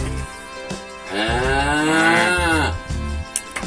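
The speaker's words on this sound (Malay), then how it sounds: "Lagi yang hitam ini dia sapi baru Pak Camat." A new black cow just moved into a cattle pen lets out one long, loud, close moo lasting a couple of seconds, with some quieter barn noise before and after.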